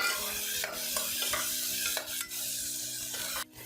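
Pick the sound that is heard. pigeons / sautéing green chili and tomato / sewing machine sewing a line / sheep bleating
sautéing green chili and tomato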